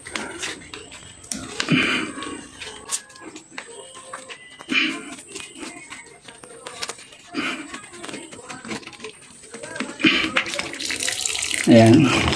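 Water rushes out of an opened drain valve on a home water system, a steady gushing flow with scattered clicks and knocks of handling, and faint voices now and then.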